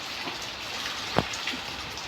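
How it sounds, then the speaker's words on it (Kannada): Steady rain hisses continuously, with a brief louder splash partway through. "ಸಿಕ್ಕಾಪಟ್ಟೆ ಮಳೆ ಇದೆ"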